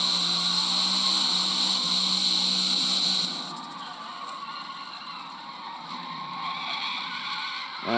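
Tires skid as a 1990 Mazda MX-5 Miata with an all-wheel-drive drift tune slides in the Forza Motorsport video game, a sustained squeal over engine whine that eases midway and then builds again.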